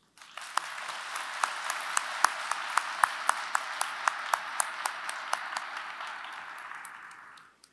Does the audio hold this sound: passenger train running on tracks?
no